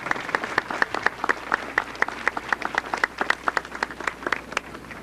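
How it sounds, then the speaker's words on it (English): Audience applause at a school event honouring board members: a moderate crowd claps in a quick, uneven patter of distinct hand claps, fairly close and steady throughout. "Give a nice round of applause."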